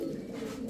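A giribaz high-flyer pigeon coos in a low, soft, continuous murmur, close by and fairly quiet.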